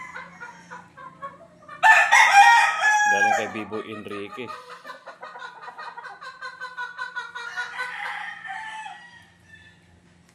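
On a game farm, a rooster lets out a loud, near crow, followed by more clucking and crowing from other fowl, with someone talking over the birds.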